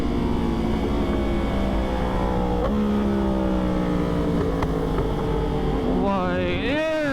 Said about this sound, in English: this exhaust pops so much